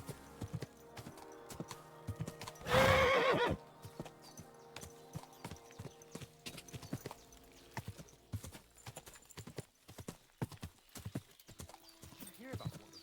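Hooves clip-clop steadily at a walking pace, broken early by a loud, drawn-out horse whinny, in the video game Kingdom Come: Deliverance II.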